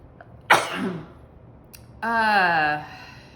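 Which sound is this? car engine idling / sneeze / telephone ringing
sneeze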